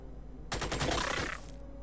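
Machine gun fire in the Xenonauts strategy game: a single rapid burst of about a second, a string of sharp cracks in quick succession, moderately loud and alone against a quiet background hum.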